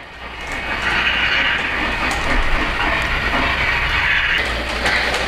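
A Polar Express model train runs along its track with a steady, close rolling hum and faint clicking, continuous and alone for several seconds.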